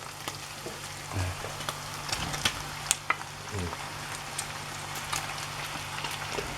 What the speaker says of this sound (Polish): I smażymy nasze ziemniaki ziemniaki już ugotowane.